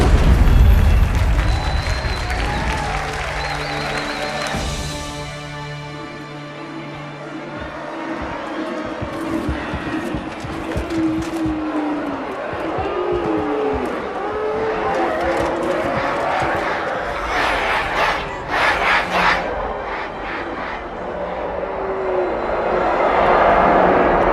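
A large crowd in the video game Halo 2 cheers and roars continuously, with a dense rumble and scattered shouts, swelling louder toward the end.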